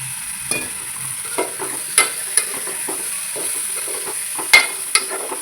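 Washed dried fish (wakti) and potatoes hit a pan with turmeric and get stirred, a soft sizzle broken by several distinct scraping taps of a spoon against the pan.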